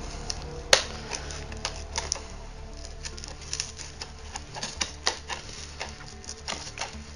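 Scissors cutting open a Logitech Driving Force GT box: irregular snipping, scraping and crinkling of cardboard and plastic at close range, with a sharp snap near the start and no speech.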